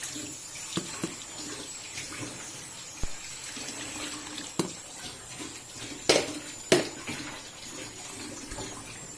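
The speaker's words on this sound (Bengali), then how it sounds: "একটু জল দিয়ে দিলাম।" A little water poured into a pan of pointed gourd cooking for doi potol, a soft continuous splashing and sizzle with a few clinks of the pan, close and fairly quiet.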